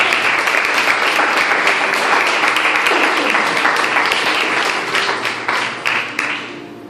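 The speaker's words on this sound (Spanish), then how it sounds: "ten aplausos, Señor." A church congregation claps loudly in a dense sustained burst, with sharp individual claps audible, then the applause thins and tapers off toward the end.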